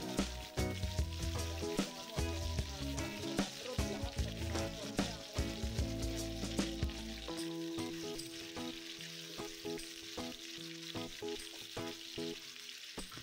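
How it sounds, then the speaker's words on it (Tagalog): Steady crackling sizzle of sliced carrots and potatoes frying in hot oil, loud and close, with a low rumbling hum through the first half. "yung hiniwa natin dyan na carrots at patatas ay ipiprito na muna natin"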